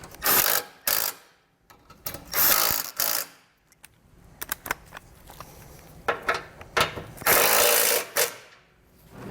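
A ratchet snugs down the bolts of a Roadmaster Direct-Connect base plate kit on a 2022 vehicle, heard as bursts of quick clicking separated by short pauses, with lighter tool and hardware handling between them.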